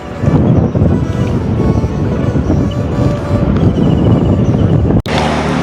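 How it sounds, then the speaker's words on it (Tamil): Strong wind outdoors in Jaffna, Sri Lanka, buffets the microphone in a constant low roar, loud and gusty, with a brief dropout near the end. "நல்ல காற்று அடிக்குது"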